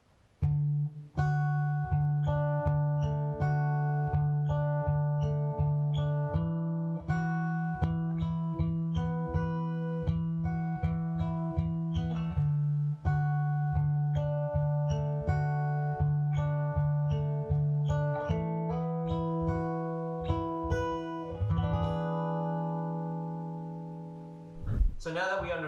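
An acoustic guitar plays the pre-chorus of a song, strumming chords in a steady rhythm with a droning open string ringing underneath. The playing is close and clear, and a few muted strokes close the passage.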